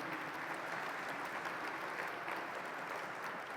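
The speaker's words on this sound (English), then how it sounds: "One more round of applause for all the signature sponsors" An audience at a museum gala applauding the signature sponsors, a steady wash of clapping from a large room, even and sustained without speech.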